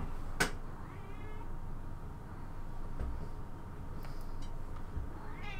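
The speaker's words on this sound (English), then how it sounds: "meow, meow" Cat meows, a few rising calls, over a steady background hum; no talking.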